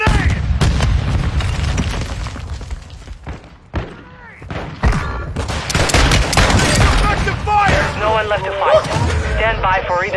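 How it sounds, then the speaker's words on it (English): Explosions and gunfire crash through a round of the video game Warzone 2 after a grenade is thrown, with loud booms, rapid shots and a voice talking over the dense battle noise. "throwing grenade!"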